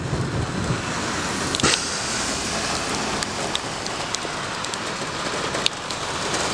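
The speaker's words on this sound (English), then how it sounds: "developing hailstorm" Steady heavy rain hisses across the whole clip as a hailstorm builds over Sydney, with a few sharp ticks and taps of drops striking nearby surfaces, loud and continuous with no voices.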